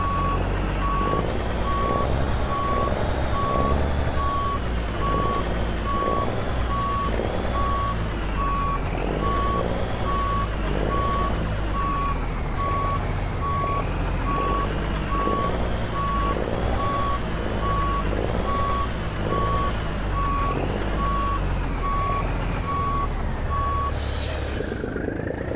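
A long Kenworth W900 truck in Euro Truck Simulator 2 backs up with a steady, repeating reversing beep over a loud, constant diesel engine rumble, with an air brake hiss near the end.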